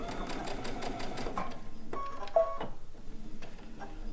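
A sewing machine runs in quick rhythmic bursts of whirring stitches while piecing a blue and white quilt top, heard close up with short pauses and a few clicks between runs.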